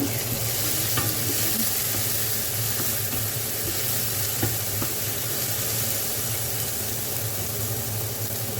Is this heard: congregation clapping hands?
no